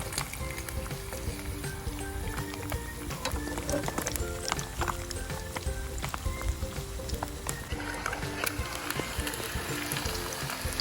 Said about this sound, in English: My eggs are cooking.